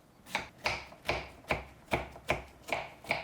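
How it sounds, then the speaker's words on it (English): Zucchini being chopped into small pieces with a knife on a board, eight crisp evenly spaced strokes, close and fairly quiet. "slice up the zucchini and chop them up into nice small pieces"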